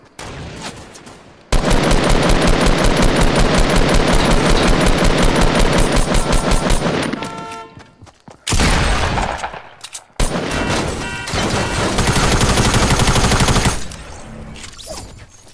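Rapid sustained SMG fire in Fortnite, loud, close bursts of automatic gunfire lasting several seconds each, separated by short pauses, with no talking.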